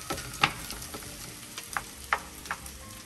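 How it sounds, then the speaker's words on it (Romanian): Onion fries in a pan with a quiet steady sizzle, broken by occasional stirring scrapes and clicks close by, with no talking. "aici vom căli ceapa"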